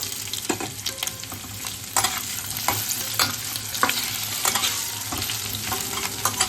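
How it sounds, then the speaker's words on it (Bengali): Grated coconut and potatoes fry in a pan with a constant sizzle, punctuated by repeated scraping stirs of a spatula at irregular intervals, close and moderately loud, with no voices. "এদিকে নারকেলটা যেই কিছুটা ভাজা হয়ে যাবে আমরা তখন আলুটা দিয়ে দেবো"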